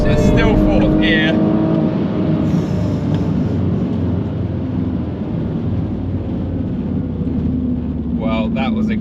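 A BMW M2 Competition and an M140i with six-speed manual gearboxes, one powered by a B58 engine, accelerating hard side by side in a drag race. Engine and road roar runs loud and steady throughout, with brief voices near the start and end.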